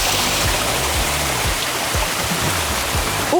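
Water rushes steadily along a stream in the village of Kosta Khetagurov, a close, continuous broadband roar with no pauses and no voices over it.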